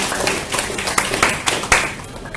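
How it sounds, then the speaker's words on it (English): An audience at an evening Green Drinks gathering in Kuala Lumpur claps for a guest, a brief round of scattered hand claps with a few sharper individual claps standing out near the end. "Please give another round of applause to Mr."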